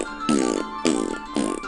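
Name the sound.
mouth imitation of farting noises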